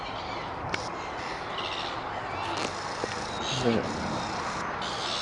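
Outdoors in a lively gathering of birds, a jackdaw gives a few short harsh calls against a steady wash of ambient birdsong and noise.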